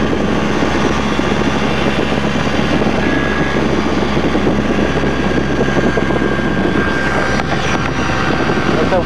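A small private plane's engine and propeller drone loudly and steadily in flight, heard from inside the cockpit as an unbroken, close roar with faint voices underneath.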